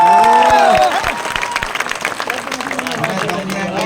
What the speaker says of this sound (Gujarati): આજે પહેલી વાત તો એ બેન માટે જોરદાર તાળીઓ થઈ જાય.